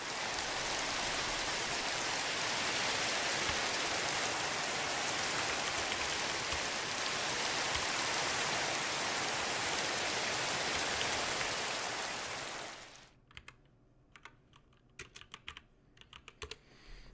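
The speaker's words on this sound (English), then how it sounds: "I don't want it raining on my smelting operation here." Rain falling in Minecraft with the Tinkers' Construct modpack: a loud, dense, even hiss of rainfall runs for about twelve seconds, then cuts off abruptly and leaves only sparse faint clicks.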